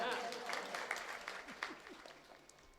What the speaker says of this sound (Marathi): एकदा टाळी वाजवा बाबासाठी